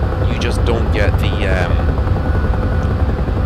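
Huey helicopter flying in the DCS combat flight simulator over Guam, a steady rotor and engine drone filling the whole clip at constant loudness, with brief voice-like sounds layered over the start.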